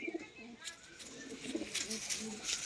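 A large close-tail pigeon coos nearby in soft repeated low throaty phrases over faint background bustle, with a voice briefly present.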